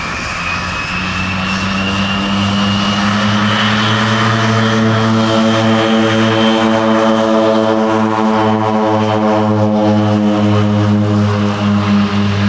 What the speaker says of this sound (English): Okay, there's the plane.